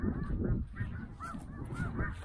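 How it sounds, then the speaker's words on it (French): Snow geese flying in during a goose hunt, honking repeatedly in overlapping calls at close to moderate range, with no talk. "les oies continuent de rentrer"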